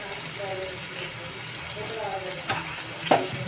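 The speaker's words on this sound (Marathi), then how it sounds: "छान गुलाबी रंग होईपर्यंत फ्राय करून घेऊया।" Chopped onion and curry leaves with asafoetida frying in a pan, a steady soft sizzle throughout with a couple of sharp metallic clinks of a utensil.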